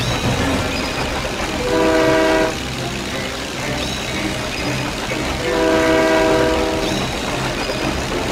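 A train passes in the Disney Planes video game, its horn sounding twice in long blasts over a continuous rumbling rail and engine roar, loud and close.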